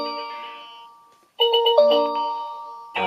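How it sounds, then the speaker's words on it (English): Tapo D210 video doorbell chime ringing after the button is pressed: a sustained electronic melodic tone that fades, then a louder multi-note chime sequence, clear and close with no talking. "Let's see what happens if I press the doorbell."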